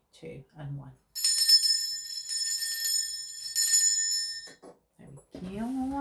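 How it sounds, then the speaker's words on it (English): A handheld bell rung to cleanse a space gives a bright, sustained metallic ring with two distinct strikes that fade slowly, bracketed by a person speaking briefly before and after. "Now I'm going to be ringing this bell."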